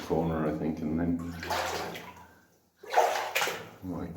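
Wading and splashing through water inside an old goldfield mine tunnel on New Zealand's North Island, the sloshing echoing near and fairly loud, broken by a brief pause, with someone talking over it.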